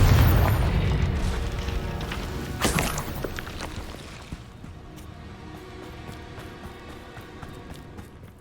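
A Confringo spell goes off in Hogwarts Legacy, a heavy booming blast that rumbles loudly and fades, with a second sharp burst a few seconds later and a low rumble trailing off.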